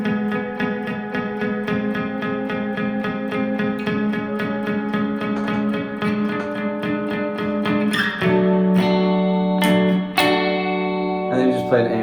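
Guitar with effects playing two chords from a song, the first strummed repeatedly in quick rhythm, then a sustained second chord ringing out with reverb, no talking.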